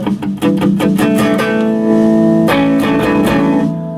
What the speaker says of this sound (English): Distortion sound.